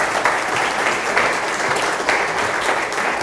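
An audience applauds steadily to welcome a lecturer onto the stage at a talk about the Willow Run story, a dense, sustained wash of clapping throughout.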